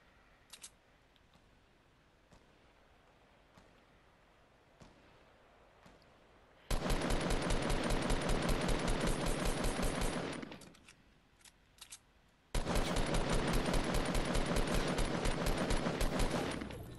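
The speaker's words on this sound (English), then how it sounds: "there's so much gunfire coming from down there" Bursts of machine gun fire ring out in Fortnite Battle Royale, two long, loud rapid-fire volleys separated by a pause, after a quiet opening with scattered distant shots.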